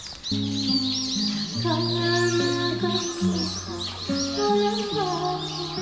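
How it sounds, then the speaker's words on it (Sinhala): Birds calling and chirping in a quiet bamboo forest, a steady layer of tones and chirps that carries on throughout with no talking over it. "ඒ වගේම ලස්සන කුරුල්ලන්ගේ සද්දේ"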